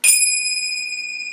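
A single bright, metallic ring of finger cymbals struck once, with a sharp attack and a high, sustained shimmer that lingers steadily without fading much.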